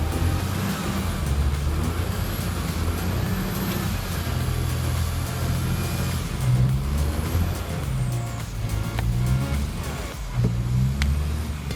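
A Deutz-Fahr Agrotron TTV 630 tractor with a 203-horsepower engine gives a loud, steady, deep diesel drone that rises and falls slightly throughout, with no talking.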